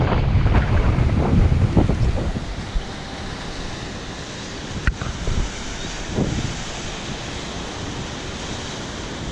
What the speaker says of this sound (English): See the wind blowing the sand past.